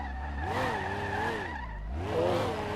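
Tires skidding and squealing as a car loses traction on a downhill sweeping bend at Brands Hatch in the SLRR racing game, an I6 bi-turbo Corsa ute, with wavering squeal tones over a steady engine drone, loud and close throughout.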